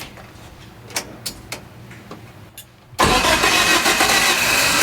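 An LJ 20 engine cranks with a few faint clicks and rattles, then suddenly bursts into a loud, roaring, rough run that holds steady, close by.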